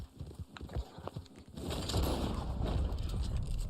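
A horse in Red Dead Online clip-clops with a few distinct hoof steps, then a louder continuous rush of movement and snorting takes over, fairly quiet overall.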